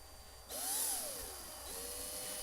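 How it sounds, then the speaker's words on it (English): A power drill whirs steadily as it bores slowly into plastic, its motor pitch rising and dipping, with a constant high whine throughout. "So if I just drill nice and slowly,"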